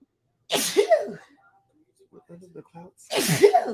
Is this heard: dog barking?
no